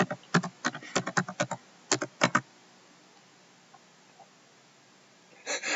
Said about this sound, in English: I'll type something.